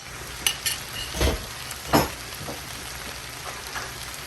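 Soft scrambled egg being folded into beef fried rice in a hot pan, giving a steady close sizzle with a few scraping, stirring thumps from a spatula, no voices.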